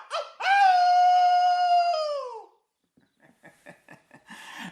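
A man imitates a wolf howl with one long, loud, sustained tone that bends downward and fades, followed by a pause and bursts of laughter from people nearby.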